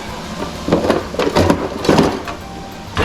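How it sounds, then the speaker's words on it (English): Several sharp chops of a thin-bladed knife cutting mushrooms on a wooden board come in quick uneven bursts over a steady background noise, close and fairly loud. "A very thin blade chopping knife. Get rid of the stem."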